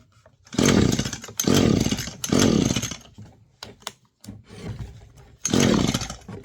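A weedeater engine fitted with a new carburetor sputters in loud, rough bursts, revving hard for about a second at a time, then cutting back or dying before firing again, close up.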